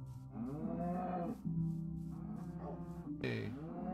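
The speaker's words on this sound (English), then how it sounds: "a couple of cows and a couple of sheep" Cows in Minecraft on the PS3 mooing in several long, wavering low calls one after another, moderately loud, with no talking.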